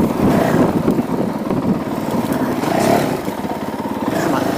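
Honda CRF450L motorcycle engine running steadily while riding, a continuous close drone with mild rises in revs, a voice talking faintly over it.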